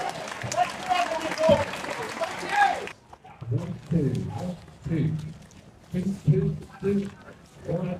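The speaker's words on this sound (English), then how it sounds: "Let's give a massive round of applause for Simon!" A festival crowd at the At Ease Festival gives a comedian a loud round of clapping and cheering for about three seconds, then the noise cuts off and people talk close by.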